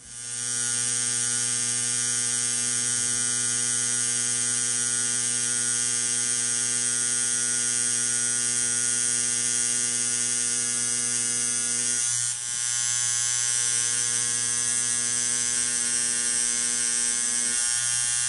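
Tattoo machine buzzes steadily while a rose tattoo is worked with 3RL, 7RL and 14R needle groupings during apprentice practice, a close, constant electric whine with rich harmonics and one brief dip partway through.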